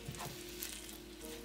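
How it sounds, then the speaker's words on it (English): Sloppy joe meat sizzles in a pan while being stirred, a soft, steady frying hiss with faint scraping, fairly quiet and without talk. "Starting to cook. So you just gotta keep stirring it."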